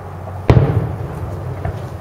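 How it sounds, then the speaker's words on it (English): A single firework bursts at an outdoor fireworks show in 2017, a sharp close bang with a low thumping body that rumbles away, followed by a fainter pop in the distance. "You just blocked a firework."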